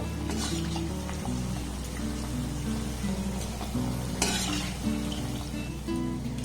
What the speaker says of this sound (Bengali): এবার অবশিষ্ট গুলোকে আমি ভেজে নেবো একইভাবে